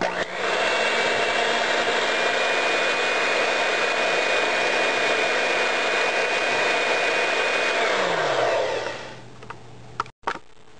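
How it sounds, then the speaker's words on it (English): An electric mixer on low whips shea hair butter with a steady, loud whirring hum that holds for several seconds, then winds down and stops, followed by a couple of brief clicks. "So I start by whipping it on low."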